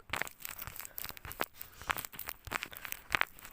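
A tape-covered homemade water squishy, its edges and front taped, squeezed repeatedly up close, producing sharp crinkling and tearing-like crackles in quick irregular bursts, with no voices.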